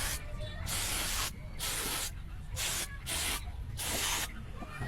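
Aircon cleaner sprayed into a Toyota Rush GRS system in a series of loud hissing bursts, about five sprays of varying length with short pauses between them, close up and with no talk.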